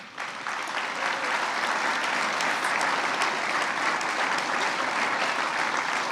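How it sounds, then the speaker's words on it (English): A crowd applauds steadily, a dense wash of clapping that holds at full strength for several seconds and then cuts off. "you'll notice everybody else is clapping"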